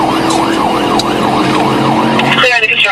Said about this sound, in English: Deputies light up their cruisers, sirens blare